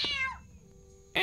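A cat in a Harry Potter video game meows twice, a drawn-out wail that falls away, then after a brief lull a second sharp, loud meow bursts in, with faint game ambience underneath.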